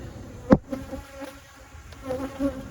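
Bees buzz around nearby, with a sharp knock early on and droning hums rising and fading, no talking.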